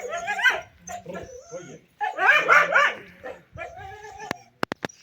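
A dog on a farm with working horses barks and yips close by in several uneven bursts, with whimpering sounds between them and a few sharp clicks at the end.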